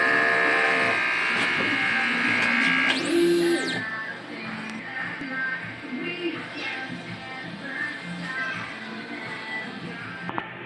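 An ink printer runs a nozzle check after a head clean, whirring and buzzing mechanically with a brief rising carriage sweep, while a person talks nearby.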